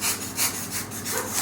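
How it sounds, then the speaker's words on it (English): Fine-toothed saw drawn through model-making material in short, even strokes, a close rasping sawing rhythm of about four strokes with no talk. "if you use a fine sawing motion or action, of getting a pretty good result"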